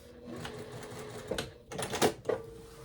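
A sewing machine stitches a side seam on a summer shirt in short bursts, a close mechanical whir that stops and restarts as the fabric is lifted and moved, with faint clicks between runs.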